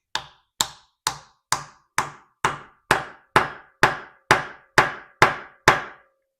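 A wooden wedge coated with glue is knocked into a hole with a dozen steady, evenly spaced sharp hammer taps, close and clear with no talking.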